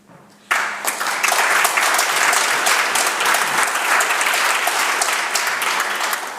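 Members of the British Columbia Legislature break into applause in the chamber, the clapping bursting in abruptly after a brief quiet voice and then holding as a full, steady, close wash of many hands until it starts to fade.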